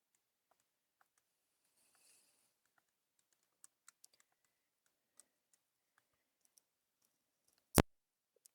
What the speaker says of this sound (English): when we type that in a calculator